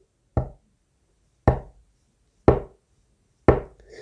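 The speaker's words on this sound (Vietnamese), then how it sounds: "Tiếng gõ cửa liền không dứt." Four sharp, evenly spaced knocks on a door, one roughly every second, each a loud, close wooden thud with a quick decay in a quiet room.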